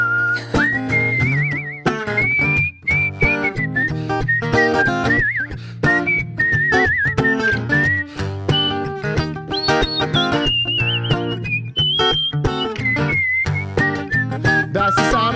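Melodic whistling carries a wavering tune over steady music with a strong bass line, continuing throughout.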